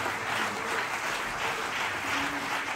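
A church congregation claps together in a dense, steady wash of applause, loud and continuous throughout.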